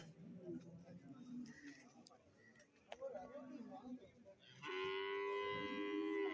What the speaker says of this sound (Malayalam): വലിയ എരുമളൊക്കെ ഭാഗത്ത് നിൽപ്പുണ്ട്